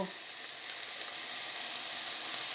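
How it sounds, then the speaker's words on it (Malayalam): Pasta ingredients being stir-fried in a pan give a steady, loud sizzling hiss that runs unbroken from start to finish, with no talking over it. "അപ്പോൾ അതുവരെ ഞാനൊന്ന് ചെറുതായിട്ടൊന്ന് വഴട്ടിയെടുക്കട്ടെ"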